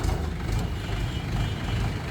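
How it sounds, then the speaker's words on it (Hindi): A tractor engine running just after starting, a close, loud, steady low diesel rumble that stays even throughout with no pauses and no voices. "देखो ट्रैक्टर स्टार्ट हो रहा, कोई दिक्कत तो नहीं?"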